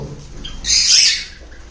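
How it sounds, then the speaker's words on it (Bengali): At a shop selling red-eye Java sparrows, lovebirds, cockatiels and conures, one brief shrill squawk rises over a background murmur. "এগুলো একদম রেডি পাখি আমি একটু কাছে নিয়ে দেখাচ্ছি দেখুন একদম রেডি একদম রেডি পাখি"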